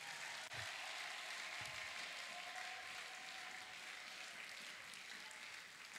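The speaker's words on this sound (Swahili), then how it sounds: "Esko unaweza shangilia kwa makofi?" A congregation applauding at a Pentecost seminar church service, a steady, even wash of clapping from many hands in a large room, sustained throughout at moderate distance.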